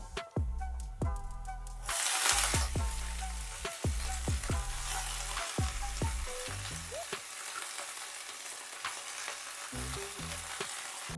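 Red spinach drops into a pan of fried onions with a sudden sharp sizzle that settles into a steady frying hiss, broken by repeated scraping and clanking of a spoon against the pan, close by.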